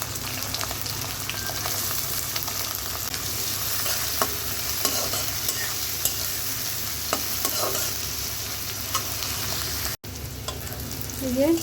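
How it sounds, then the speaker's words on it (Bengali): Chilli, onion and garlic fry in hot oil in a wok ahead of greens, making a loud continuous sizzle with scattered spits and scraping stirs and a brief dropout near the end. "শাক ভাজি করার জন্য কড়াইতে তেল দিয়ে দিয়েছি এখন মরিচ পেঁয়াজ আর রসুন দিয়ে দিলাম"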